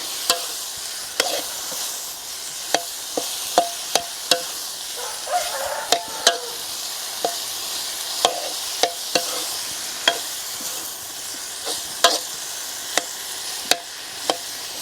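Spicy eel stir-fried in a pan, a constant close sizzle punctuated by regular sharp clacks of a spatula scraping and tossing against the pan, roughly every second, with no voices.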